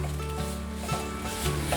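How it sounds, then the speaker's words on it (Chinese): Carrots stir-fry in a little hot oil in a wok for a vegan home-cooked dish, a continuous close sizzle with soft scraping and stirring sounds throughout. "锅内倒入少许的油，油热了，放入红萝卜，把红萝卜炒软。"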